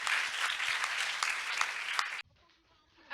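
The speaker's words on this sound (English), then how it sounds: "Can we please give a big round of applause to Kaisha?" A university demo-day audience applauds a presenter, dense loud clapping that runs for about two seconds and then cuts off abruptly, leaving quiet room tone.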